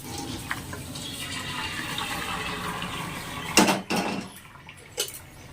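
Hot water drains from boiled chow mein poured out of a kadhai into a metal strainer, a running splash that ends in a few sharp clanks of the pan and strainer.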